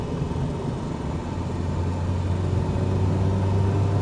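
Skoda Favorit with a 56 horsepower 1.3 OHV engine pulling uphill, a steady low engine drone that rises slightly in pitch as it accelerates, heard from inside the car, fairly loud and continuous with no talk.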